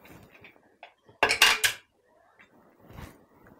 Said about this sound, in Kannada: ಕುಕ್ಕರ್ ವಿಷಲ್ ಬಂದಾಯಿತು, ತಣ್ಣಗೂ ಆಗೋಯ್ತು ಕುಕ್ಕರು. ಓಪನ್ ಮಾಡ್ತಾಯಿದ್ದೀನಿ